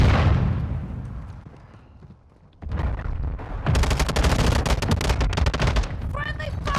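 Video game gunfire from Call of Duty Modern Warfare II crackles in rapid bursts after a quiet lull, loud and dense, with shouted voices over the shooting.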